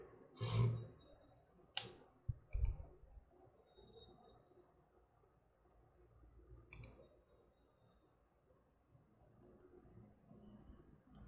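Computer mouse clicks in a quiet room, a few sharp isolated clicks near the start and another single click a few seconds later, with long silent gaps between them.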